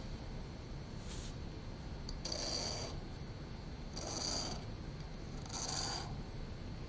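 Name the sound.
deburring top of lathe bit with strokes of a stone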